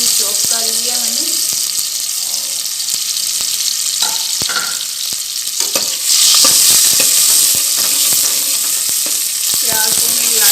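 Chopped medium onion hits hot oil in a pan for mustard greens, a loud continuous sizzle with stirring clatter and intermittent talk over it, the frying swelling louder partway through.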